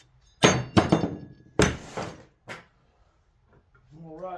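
A hammer strikes a cast aluminum motor housing from a 1/8 hp electric motor held over a table edge: about five sharp, ringing metallic blows in uneven succession, close by, followed by a brief spoken voice.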